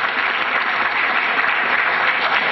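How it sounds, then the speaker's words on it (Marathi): Loud, sustained applause from an audience at an award ceremony, a dense and steady wash of many hands clapping together without pause. "पुन्हा एकदा या सगळ्या पुरस्कार प्राप्तांसाठी जोरदार टाळ्या होत आहेत"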